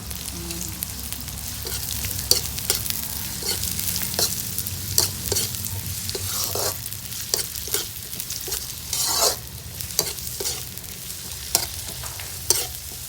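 Shallots and garlic frying in a pan for a Thai chili paste, a steady close sizzle broken by frequent scraping and stirring clacks, with no talking.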